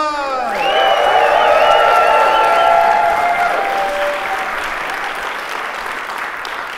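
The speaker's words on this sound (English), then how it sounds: "Give them a warm round of applause." Conference audience applause, loud sustained clapping with some cheering that swells then slowly fades, with a whooping or whistling voice rising near the start.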